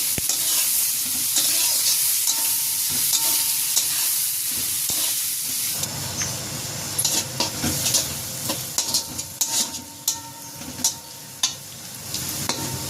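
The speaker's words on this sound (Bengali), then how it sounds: "পেঁয়াজ আর কাঁচামরিচটাকে একটু ভেজে নেব।" Chopped onions and green chillies sizzle in oil in a pan, a steady close frying hiss with repeated scraping and clinks of a spoon stirring against the pan in the second half.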